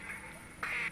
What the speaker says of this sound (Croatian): American black duck.